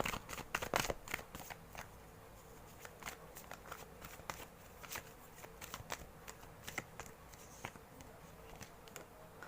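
Tarot cards are shuffled and pulled from the deck, giving a close, quiet run of crisp riffling and snapping clicks with no talk.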